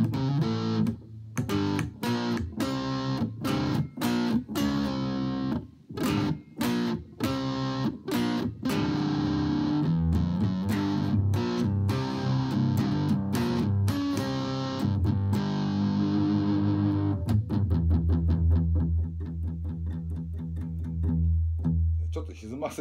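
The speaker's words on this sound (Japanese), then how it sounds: "ちょっと歪ませすぎなので軽い歪みに変えて" A cheap PhotoGenic electric guitar with heavy distortion plays a run of chords and notes, loud and continuous, ending on sustained ringing tones.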